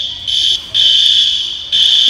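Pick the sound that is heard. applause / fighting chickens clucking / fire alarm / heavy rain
fire alarm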